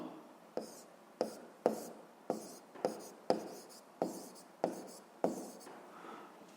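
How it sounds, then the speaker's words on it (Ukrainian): Handwriting with a pen on paper gives a regular series of about ten scratchy strokes, each a sharp attack fading quickly, close and fairly loud in a quiet room. "Пишемо поклала."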